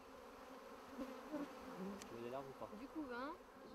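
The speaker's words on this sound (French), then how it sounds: "Et donc voilà pourquoi on s'intéresse aux abeilles" Honeybees buzz softly in a steady drone, with wavering, gliding tones rising and falling as individual insects fly close past, fairly quiet overall.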